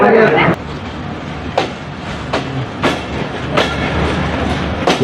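A crowded local train runs toward Noapara, a steady rolling rumble broken by sharp rhythmic rail clacks, with a brief voice near the start.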